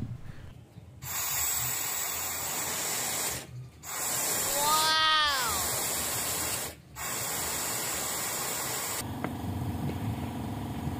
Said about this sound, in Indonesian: Semprot lagi dengan kompresor untuk mengeluarkannya.